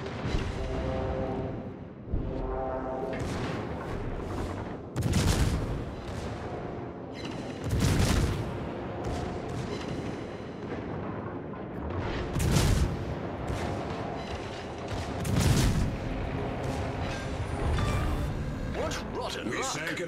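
Naval guns firing in World of Warships from a Tier 8 light cruiser, HMS Edinburgh, heavy booming salvos repeating every few seconds, loud and close, with voice callouts and game sounds between.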